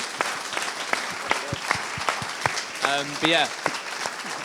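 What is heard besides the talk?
audience applause for Ben, Claire and Harry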